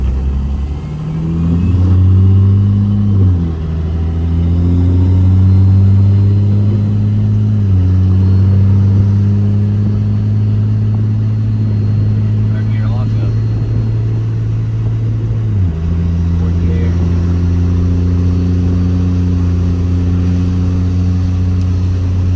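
A car engine running right after a major engine failure repair, a loud, close, steady idle with several rises and drops in revs as it is blipped, with no talk.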